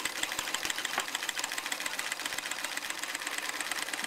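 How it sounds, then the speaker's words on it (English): An old sewing machine stitching an old folded tablecloth, giving a fast, steady mechanical chatter with repeated clicks that runs evenly and fairly close throughout. "Any old sewing machine will work."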